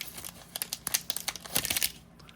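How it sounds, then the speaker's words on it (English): Plastic sticker packet for Zuru Smashers Dino Island toys being torn open by hand, a quick run of close crinkling and ripping bursts lasting about two seconds, quiet and with no talking. "let's open up the stickers and see if we get different ones this time"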